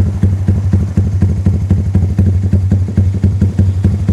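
Yamaha MX King 200cc motorcycle idling with a Pekajaman aftermarket exhaust, a deep, loud, close burble that pulses in a fast, steady rhythm, alone without talking.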